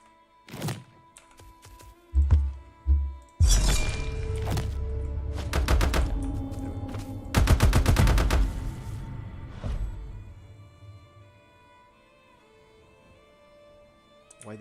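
Automatic weapon fire in a video game under development sounds in several separate rapid bursts, each a dense rattle of shots with thumping impacts, the bursts spaced out by quiet gaps.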